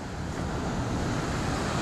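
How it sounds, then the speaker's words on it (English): Churning water from the Colorado River overflow at the Salton Sea makes a constant broadband roar, close and steady with wind noise and no voices, over a brief stretch. "Look at that churning water."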